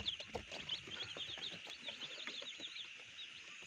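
Young chicks feeding, with a steady chorus of high chirps and peeps running throughout, mixed with soft scratchy pecking and clucking, moderately close and continuous.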